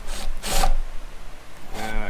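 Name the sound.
drilling a hole through a wooden camper van cabinet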